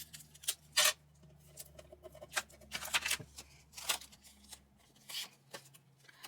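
Adhesive tape handled and pulled while making a snow-day photo album, faint crackling tears and ripping bursts in short irregular bursts, heard alone in a quiet room.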